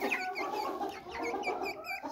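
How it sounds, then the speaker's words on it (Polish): Young chicks on a farm give a dense, continuous chorus of high, quick peeping and chirping, close and steady throughout. "O, kurczaczki."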